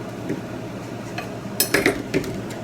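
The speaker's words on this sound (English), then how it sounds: "I'm just going to cut it up a little bit. I'm just rough chopping right now." A kitchen knife taps on a cutting board a few times while rough-chopping fresh garden parsley for a spaghetti sauce. The clinks are light and sparse, over a quiet room.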